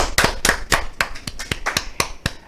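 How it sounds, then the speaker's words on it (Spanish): Studio audience applause on a talk show, a handful of hands giving about ten sharp, close claps in an uneven rhythm, loud and dry with nothing else beneath them. "Yo pido un fuerte aplauso para ella."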